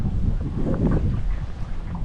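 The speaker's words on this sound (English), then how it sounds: "Nice and windy." Strong wind buffets the microphone on a fishing shore at incoming tide in a continuous, roaring rush, loud and close with no voices.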